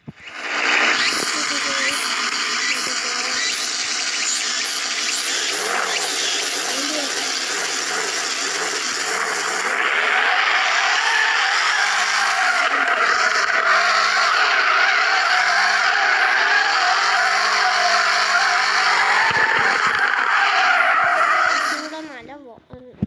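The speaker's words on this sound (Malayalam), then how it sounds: "എൻ്റെ കാറും കൊണ്ട് ഞാൻ ഡ്രിഫ്റ്റൊക്കെ നന്നായി അടിക്കുന്നുണ്ട്" Car drifting in the FR Legends video game: continuous loud tyre screeching and skidding with a revving engine, the pitch sweeping and wavering as slides change, running almost unbroken for over twenty seconds.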